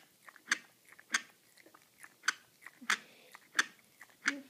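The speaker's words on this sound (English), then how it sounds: "Stop chewing." An animal chews steadily on nothing, sharp close clicks and crunchy bites recurring about every half second, quiet and without talk.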